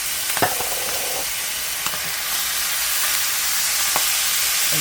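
Ground beef with taco seasoning and canned Rotel tomatoes sizzles in a hot pan while a spoon scrapes and stirs it in a few sharp strokes, the frying hiss steady and close throughout.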